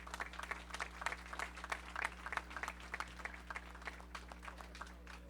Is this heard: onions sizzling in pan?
no